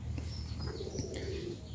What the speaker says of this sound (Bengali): ওই যে ভিতরেগুলো সব কবুতর আদা খাতের ভিতরে ঢুকছে, আদা খাতের ভিতরে ঢুকে তারা খাবার খাচ্ছে।